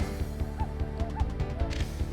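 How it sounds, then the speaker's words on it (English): Cuckoo calls in Mario Golf: Toadstool Tour, short repeated whooping bird notes sounding over a rhythmic, thumping game music loop. "Are those cuckoos really going ham today?"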